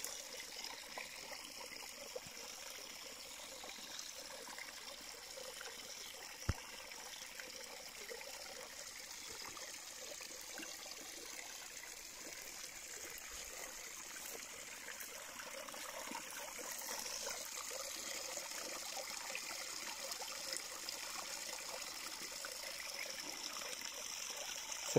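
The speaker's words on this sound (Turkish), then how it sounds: "Bu da şelale." Water from a waterfall on a stream rushes and trickles steadily throughout, a constant broadband wash heard from moderately close with no voices, in an outdoor countryside setting.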